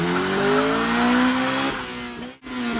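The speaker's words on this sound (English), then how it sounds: "This is what happens when you try to burn out a front-wheel drive lawnmower." A front-wheel drive lawnmower with soapy, wet tires in a puddle attempting a burnout, its engine revving high with a rising whine and tire squeal, then a brief cut and a jolt before the revving picks up again.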